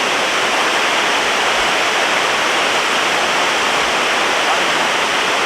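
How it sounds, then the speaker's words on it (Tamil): Waterfall at Vagamon, Kerala, roaring as a dense, steady rush of falling water, loud and close with no pauses or voices. "அருவியோட சத்தம் உங்களுக்கு கேட்கணும்னு நினைக்கிறேன்."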